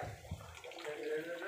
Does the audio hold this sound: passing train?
no